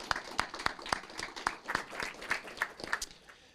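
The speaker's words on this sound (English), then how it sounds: "One more big round of applause for Parks and Recreation" At a city council meeting, the audience gives a round of applause for the Parks and Recreation department, a light, fairly quiet patter of scattered claps from a small crowd with no speech over it.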